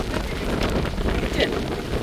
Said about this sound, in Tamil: பாருங்க காற்று எப்படி தண்ணி அடிக்குதுன்னு